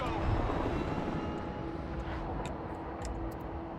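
A Chinook helicopter in a video game makes a constant droning engine rumble with a steady low tone, joined by a few faint high clicks and taps toward the end.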